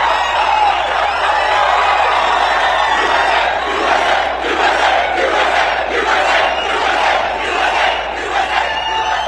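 A large rally crowd roars and cheers loudly and continuously, with rhythmic swells of massed shouting rising and falling over the din.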